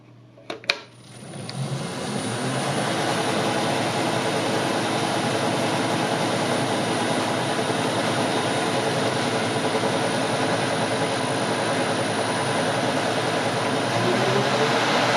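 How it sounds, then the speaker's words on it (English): A lathe with a segmented drive belt switches on with a click and spins up to a steady whirring drone that holds for the rest of the clip, with a constant high whine on top and no talk. "Turn on the lathe and show you how it works."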